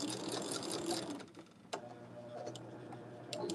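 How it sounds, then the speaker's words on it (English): A sewing machine stitching the seams of a quilt block, running in a steady, fast whirring rattle, with a brief pause and a click partway through, then resuming close and quiet. "So I'm just making sure that the seams stay flat. As I'm sewing over everything"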